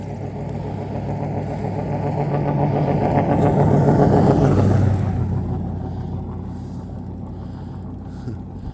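A vehicle on mud tires drives past, a rumbling engine and tire drone that swells to a peak midway and then fades as it moves off, with no talk.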